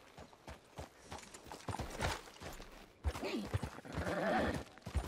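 A horse's hooves clip-clop in Red Dead Online in uneven bursts. Several players talk over the hoofbeats at moderate volume.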